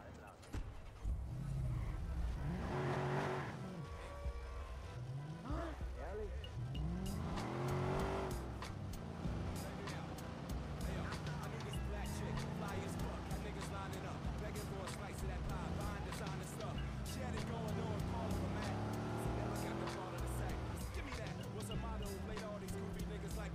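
A car driven through city streets in the video game Watch Dogs, engine humming and rising steadily with occasional revs, heard under continuous talk in German.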